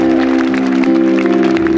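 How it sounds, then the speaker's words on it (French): Concert audience applause for a singer's crew at a Viking Tour 2022 show in Barentin: a steady wash of clapping over sustained musical tones, loud and continuous throughout. "Applaudissez-le très fort."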